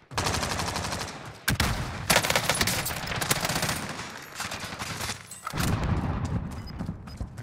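Rapid bursts of video game gunfire crackle almost nonstop, loud and close, with brief gaps between volleys and a dense, chaotic layering of shots.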